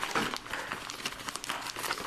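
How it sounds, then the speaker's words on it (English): Paper pages are crumpled up by hand before being fed into an Epson DS-575W scanner, a dense, continuous crinkling and rustling that sounds close and steady throughout. "Let's try and crumple up the pages."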